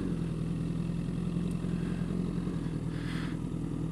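Motorcycle easing away from a stop on the clutch alone with no throttle, a steady low engine drone idling along at constant loudness without revving.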